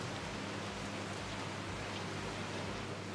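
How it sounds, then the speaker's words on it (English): Heavy morning rain falls steadily near the Kollur Mookambika temple, a dense, even hiss with no breaks and no voices. "It's raining heavily."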